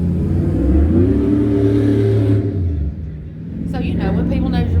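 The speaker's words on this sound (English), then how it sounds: "There's like some wore out mufflers on a Mustang." A Ford Mustang with worn-out mufflers rumbles past nearby with a rough, raspy exhaust, its engine note rising then fading as it drives away.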